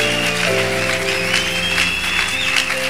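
A church congregation applauds the Lord in a steady, dense wash of clapping, with sustained organ or keyboard tones and a faint voice running underneath throughout.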